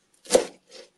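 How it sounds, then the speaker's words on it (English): Two quick knife cuts through a carrot, the first a crisp crunch and the second softer, close up with quiet between. "I think I might just give it a little cut so I don't have super long carrot pieces"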